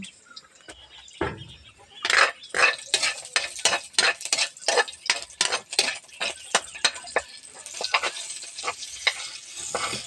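Onion and garlic sizzle in a pot at the start of a meatless miswa noodle dish, with a spoon stirring and scraping in a rapid, rhythmic series of loud clinks and scrapes over a steady frying hiss.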